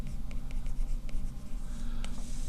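An Apple Pencil draws on an iPad screen in Procreate, giving a soft, steady scratching and tapping of the stylus tip against the glass, close and continuous with a low background hum.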